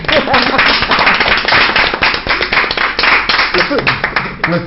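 A studio audience on a televised talk show gives loud, dense applause that continues throughout, with a voice speaking over it.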